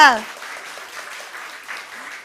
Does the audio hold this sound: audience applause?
yes